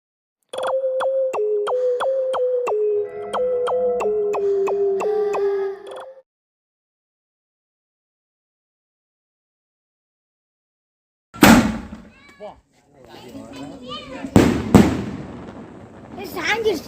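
A Mothers brand Mount Everester 2.5-inch double ball sky shot firework is set off. A steady tonal stretch and a long silence come first, then a sharp, loud outdoor bang, scattered crackling and a second strong burst.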